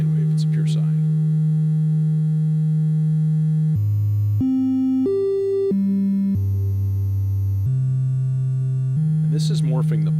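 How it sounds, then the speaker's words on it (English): Cloud Terrarium Eurorack oscillator producing a pure sine wave, a loud steady tone that steps through several pitch changes, with brief bits of talk at the start and end. "And now it's a sine wave. It's a pure sine."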